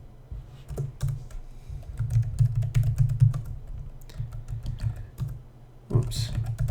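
Keys clatter on a computer keyboard as a password is typed into a Linux root login, a run of close clicks over a low steady hum, with a brief louder burst near the end.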